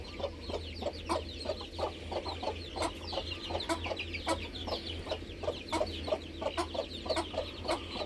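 Young Thai fighting chickens (gamecock chicks) cluck and peep in quick, repeated bursts close by, over a low steady background hum.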